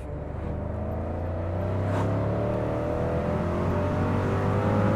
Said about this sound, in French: C'est ce cliquetis de V8 que je trouve absolument fantastique.